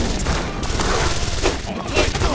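Bolt caster shots and a grenade blast in the video game Deus Ex: Invisible War, a loud, dense run of impacts and booms close up that continues through the whole stretch.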